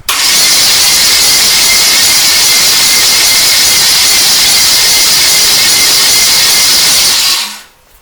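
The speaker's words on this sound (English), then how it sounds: "we can turn it over, watch all the valves, see if they make sure they all move." A 1969 Chevrolet C-10 pickup engine is cranked over, giving a loud, steady whirring rush that holds for about seven seconds and then cuts off abruptly.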